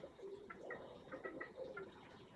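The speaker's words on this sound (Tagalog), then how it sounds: "Ayan po sila mga kalapatis." Pigeons coo softly in a low, repeated rhythm of short calls, moderately distant, with quiet background ambience and no talk.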